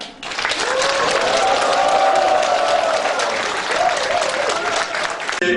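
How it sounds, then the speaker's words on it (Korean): A crowd at a campaign office opening for a Pocheon mayoral candidate bursts into loud, sustained applause and cheering that swells quickly, holds strong, then fades near the end. "모든 분들의 큰 박수와 함성으로 시작하겠습니다"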